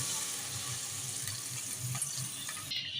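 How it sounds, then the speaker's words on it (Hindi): Water poured into a cooking pot holding about two cups of soaked rice, a steady broadband rush and splash running continuously and fairly close, ending abruptly near the end with no talking. "मैंने चावल और पानी इसमें शामिल कर दिया है"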